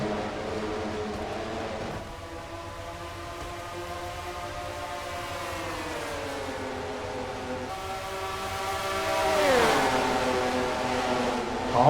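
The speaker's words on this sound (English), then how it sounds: "the field thunders off turn number 2 now" A pack of race cars roars off a turn at Opryland in a Mello Yello racing video game, overlapping engine tones rising and falling together in a sustained drone that swells louder near the end.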